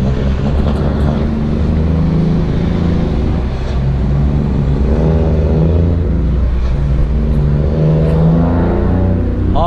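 A Scania truck with an open exhaust rumbles loud and close, its deep engine note swelling and falling through repeated revs without a break.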